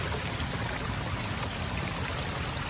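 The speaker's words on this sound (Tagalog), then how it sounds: "Lumalakas na yung tunog ng tubig." Loud, steady rushing water pours continuously, a dense roar of Maranum Falls nearby in the Caraballo Mountains, with no pauses or voices.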